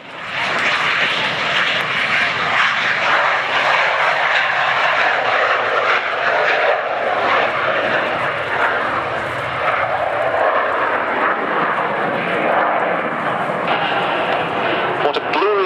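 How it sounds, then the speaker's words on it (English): A Gloster Meteor T7 jet flying at a Duxford spring airshow: a loud, continuous engine roar sustained throughout as it passes, with a commentator speaking over it. "the Gloucester Meteor T7."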